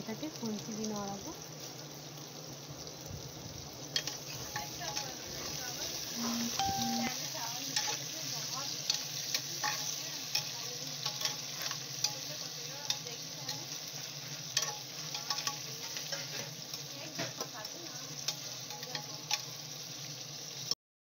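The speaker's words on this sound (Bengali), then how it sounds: "সব পেঁয়াজ দিয়ে দিলাম, ভালো করে পাতলা পাতলা পিস করে রেখেছিলাম কাটিং করে। আমি এটাকে খুন্তি দিয়ে নাড়াবো।" Thinly sliced onions fry in a pan for beef kosha as a spatula stirs them. A steady sizzle runs under repeated scraping and ticking strokes, with a voice talking briefly near the start.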